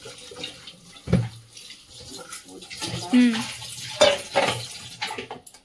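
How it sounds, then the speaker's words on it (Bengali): Cold water is poured over boiled pasta and then drained off in a kitchen, with splashing and gushing in uneven surges and a brief clatter, while someone talks over it. "চলো জলটা ঝাড়িয়ে নিই।"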